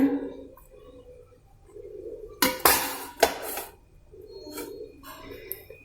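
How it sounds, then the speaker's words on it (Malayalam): A metal plate lowered onto a stand inside a pressure cooker, two sharp clanks with scraping metal contact between quieter handling knocks, close and distinct, without speech. "ഇതിൻ്റെ മേലോട്ടാണ് ഞാൻ പ്ലേറ്റ് ഇറക്കി വെക്കുന്നത്"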